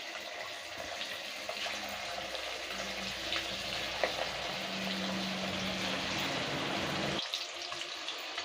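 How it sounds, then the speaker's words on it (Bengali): Marinated chicken pieces frying in hot oil, a continuous crackling sizzle with scattered sharp pops, fairly close and steady, with a low hum underneath that cuts out near the end. "ভেজে নেবো চিকেনগুলো"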